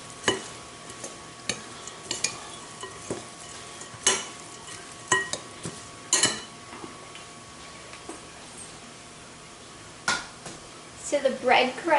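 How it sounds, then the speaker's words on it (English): A spoon mixes veggie loaf ingredients in a bowl, giving scattered scraping and clinking taps at an uneven pace, close and moderately loud, with a busier burst of clatter near the end. "I'm going to give this a good tossery toss. Get everything all nice and mixed up here."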